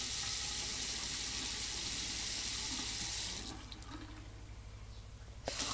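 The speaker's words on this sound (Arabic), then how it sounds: "انا هخش استحمى بمية ساقعة متلجة عشان اعرف انام وتبردني خالص" Ice-cold shower water pours in a steady hiss for about three seconds, then cuts down to a quieter trickle and drips, ending with a small knock.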